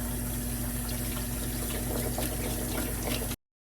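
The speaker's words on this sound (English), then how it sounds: "we're just going to strain that because it removes some of the sodium. And we're going to rinse it." Canned chickpeas being rinsed under running tap water in a strainer: a steady, close, even rush of water flows for about three seconds, then stops abruptly.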